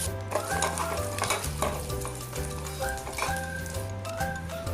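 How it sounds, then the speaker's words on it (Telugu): Curry leaves, garlic, dried red chillies, tempering spices and onions fry in hot oil for bottle gourd dal, giving a steady close sizzle with a few stirring scrapes under a continuous musical backing. "నూనె వేడయ్యాక కరివేపాకు, వెల్లుల్లి రెమ్మలు, పోపు దినుసులను, ఎండుమిర్చి, ఉల్లిపాయలను వేసుకొని వేయించుకోవాలి"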